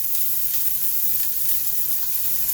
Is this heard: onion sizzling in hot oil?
yes